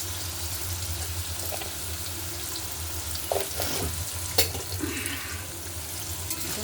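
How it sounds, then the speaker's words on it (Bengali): Potatoes frying in a pan with a little salt, heard as a steady close sizzle and hiss with a few clinks and scrapes of stirring partway through. "5 মিনিট ঢাকা দিয়ে আলুগুলোকে ভালো মতো আমি ভেজে নেব"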